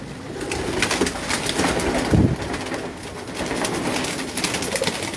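Pink-eyed pigeons on a rooftop give soft, low cooing calls at close range, repeated in short bursts over a light background rustle.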